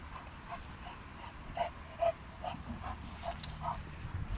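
Dogs bark outdoors at a distance, a steady series of faint, evenly spaced yaps roughly every half second over a low outdoor rumble.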